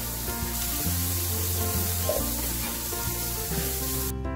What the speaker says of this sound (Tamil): இது எல்லாத்தையுமே சேர்த்து நல்லா வதக்கிடலாம்.